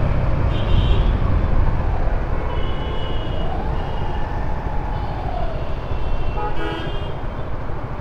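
Street noise fills a traffic jam in Dhaka, heard from a motorbike: a dense, loud rumble of idling and creeping vehicles with several horn toots scattered through, close and continuous, with no talk.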